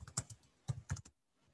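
Someone types on a computer keyboard in a few quick clustered keystrokes, faint and close in a quiet room, then stops.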